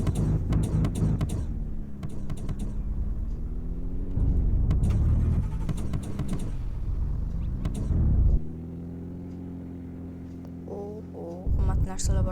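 A car in the Roblox game Car Flipper drives slowly, its steady low engine hum and rumble running throughout with slight shifts in pitch, while a person talks over it.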